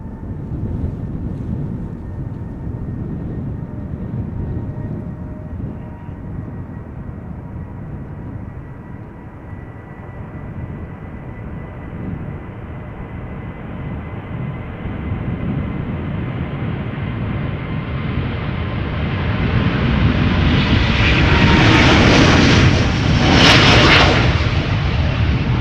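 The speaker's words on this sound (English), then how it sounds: "A330neo. Let's look and listen." A brand-new Delta Airlines Airbus A330neo takes off, its engine roar and rushing wind noise swelling from a distant rumble to a loud, harsh peak near the end.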